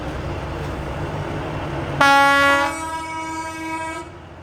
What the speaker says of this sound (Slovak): priviezla k nám aj krásny exponát, stále prevádzky schopný rušeň železničnej spoločnosti Cargo Slovakia